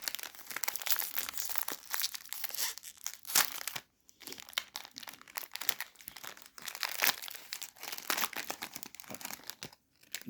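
A plastic bag being torn open and crinkled close up, with continuous rustling and crackling broken by a couple of short pauses.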